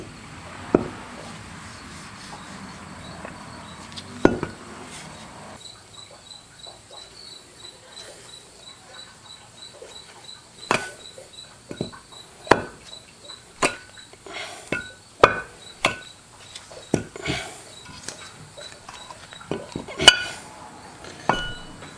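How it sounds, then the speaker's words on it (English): A brake caliper is worked off the spindle of a Fox Body car, giving sharp metallic clinks and knocks at irregular intervals, some rapid clusters, close and fairly crisp over a quiet garage background. "we can slowly start to lift caliper off of the spindle"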